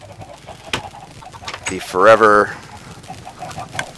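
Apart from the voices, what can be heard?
chickens clucking in Minecraft video game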